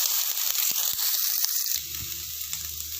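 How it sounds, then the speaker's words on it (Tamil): Sliced onions fry in oil with spices in a pan, a bright close sizzle that drops after a scrape partway through into a softer steady hiss with a low rumble beneath, no talking. "வெங்காயம் வந்து நல்ல பொன்னிறமாக ஆகிற வரைக்கும் நீங்கள் வந்து வதக்கிக்கோங்க."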